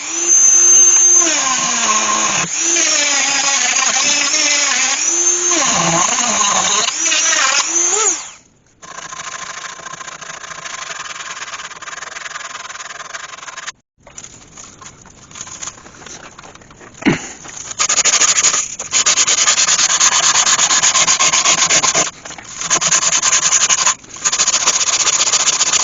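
A sander burr and Abranet work over a wood-turned piece with hand carved fluted spirals, a loud high whine that wavers in pitch, breaks off into quieter scratchy sanding, then returns to a steady shrill grind.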